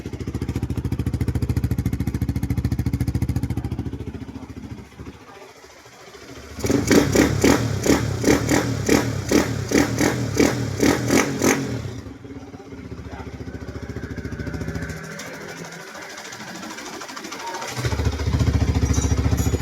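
A repaired Bajaj NS200 motorcycle engine, long stored and now with a fixed carburetor and wiring, idles with a low rumble, then revs into a loud, rapid staccato run for several seconds before dropping back to idle and cutting out briefly, close by with no speech.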